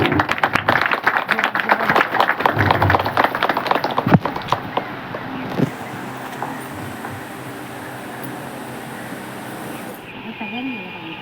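A crowd at a village's first joint Jayanti celebration honouring Dr. Babasaheb Ambedkar claps in a dense burst for about five seconds, mixed with a voice over loudspeaker, then the applause fades as talk continues.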